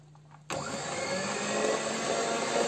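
An electric mixer switches on abruptly and whirs steadily, whipping butter with unboiled condensed milk into cake cream, a close, continuous motor whine that grows slightly louder.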